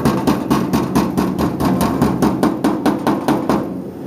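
Rapid, regular metallic body-hammer blows shape a sheet-metal panel for a 1978 Dodge Power Wagon W100, ringing out close and loud, about three strikes per second, continuing without pause.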